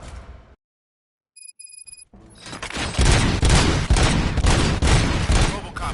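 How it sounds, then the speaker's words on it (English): Rapid video game gunfire, a dense sustained fusillade of shots that swells in after a near-silent pause broken by a brief electronic tone, loud and continuous to the end. "Gunshots? What's going on?"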